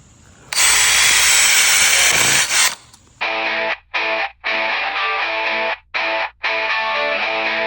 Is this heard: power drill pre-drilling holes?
yes